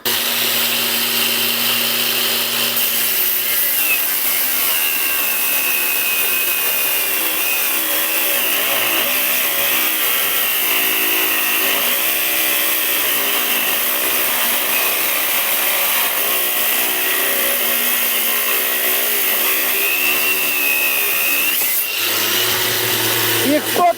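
A Grosser GAG 120KB cordless angle grinder cuts through a 20 mm round steel bar in a stand, giving a loud, steady high-pitched whine that holds for most of the stretch and drops away near the end.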